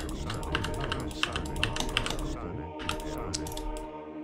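Rapid keyboard tapping and mouse clicking while controlling units in Age of Empires II, a busy stream of close clicks with game sounds beneath.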